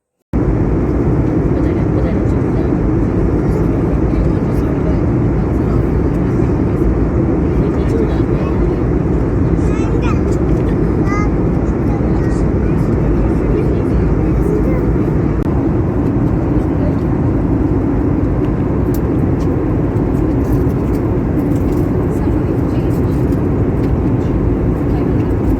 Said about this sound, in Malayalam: അങ്ങനെ ഫ്ലൈറ്റ് ലാൻഡ് ചെയ്യാറായിട്ടുണ്ട് കേട്ടോ